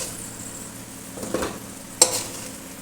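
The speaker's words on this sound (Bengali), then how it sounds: "আলুগুলো ভাজা হয়ে গেছে," Potato pieces fry in hot oil in a home kitchen while being stirred, giving a soft steady sizzle broken by two sharp clinks of a spatula against the pan.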